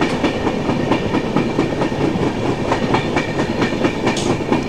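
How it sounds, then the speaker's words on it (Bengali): The Samaleswari Express, the Jagdalpur to Howrah train, runs along the rails with a continuous close rumble and a regular clickety-clack of wheels over the rail joints, alone without voices. "ট্রেন অনেকটাই এগিয়ে গেছে।"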